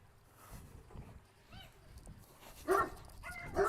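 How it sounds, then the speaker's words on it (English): Dogs barking and yipping in a room, sharp short yelps clustered near the end, fairly close but moderate in level, with faint talk and game sounds underneath. "Sorry about the dogs."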